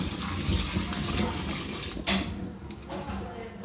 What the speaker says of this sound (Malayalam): ഇത് നല്ലതുപോലെ നമുക്കൊന്ന് കഴുകിയെടുക്കാം